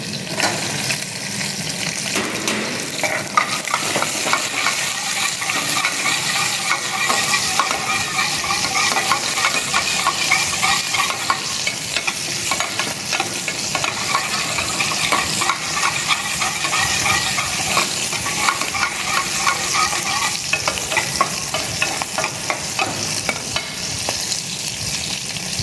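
Ginger, green chili, garlic cloves and onion fry in a pan with a steady, close sizzle that runs throughout, broken by occasional stirring scrapes and light clinks.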